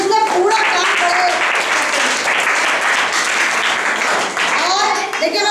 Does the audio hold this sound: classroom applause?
yes